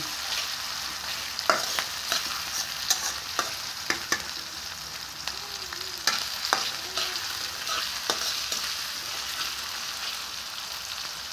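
Frying in a pan before fish goes in produces a steady sizzle, with frequent sharp clicks and scrapes from a spatula as it stirs. The sound stays close and no one speaks.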